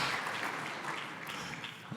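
An audience at a business forum keynote claps steadily in a dense, continuous patter that fades slightly toward the end, with no voices over it.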